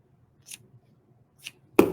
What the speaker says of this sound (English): Now, I got a lot of excess here. I'm going to trim some of that off.